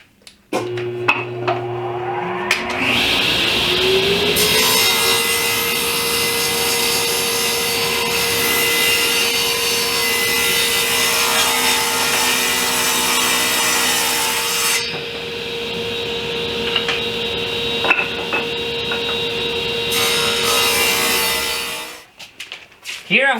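A saw cuts off a wooden tongue for a clean edge on a bench build: a loud, sustained whining rasp through the wood holds steady for about twenty seconds, then tails off abruptly.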